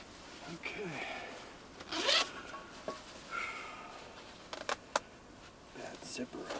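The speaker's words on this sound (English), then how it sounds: "Bad zipper on this thing." A bad, sticking zipper is pulled in a few rough, scratchy strokes at close range, with short rasping bursts and some handling noise in between, while someone talks briefly outdoors.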